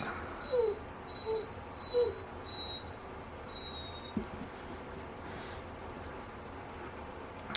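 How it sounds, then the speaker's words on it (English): A dog gives three faint, short whimpering yips in quick succession, thin and a little distant, against a quiet indoor background, then falls silent. "My dog is going crazy."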